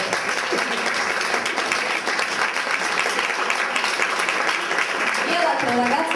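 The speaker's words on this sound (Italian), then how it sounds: "Applauso." Steady applause from an audience at a cosplay festival fills the space, continuous and fairly loud with a dense patter of claps throughout.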